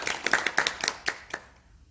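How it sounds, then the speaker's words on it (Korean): A small group claps at a Herbalife business presentation, a short burst of about a dozen hand claps, close and fading out quickly. "동의하시는 분들만 전국에서 다 같이 한번 박수 한번 치고 넘어갈게요"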